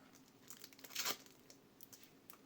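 Close, quiet tearing and crinkling of a small paper packet, with a sharp rip in the middle and scattered crackles of the wrapper around it.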